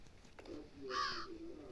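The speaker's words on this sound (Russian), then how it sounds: "Ворона там." In a snowy horror video game, a single crow caw sounds faintly in the distance, a short hoarse call over low background ambience.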